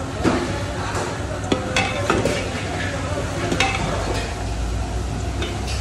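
Ingredients such as turmeric and coriander hit hot oil in a pan for Kathiyawadi vagharelo rotlo, giving a steady broad sizzle with scraping and stirring clatter throughout, fairly close and loud.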